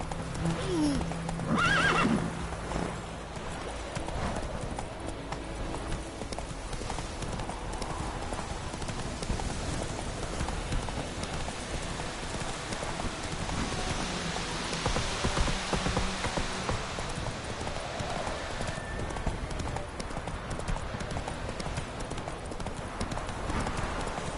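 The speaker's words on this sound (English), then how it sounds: "Whoa there, Roach." Hooves of the horse Roach clip-clop steadily through the whole stretch in The Witcher 3, with a neigh near the start and a soft patter of rain on the ground underneath.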